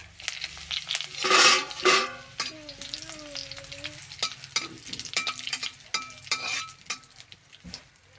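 Curry leaves and mustard seeds sizzle and crackle in hot oil in a pan, with bursts of spattering and a spoon stirring and clinking against the pan.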